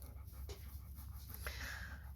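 A dog pants in quick, breathy bursts close by, with a few sharper huffs against a low background hum.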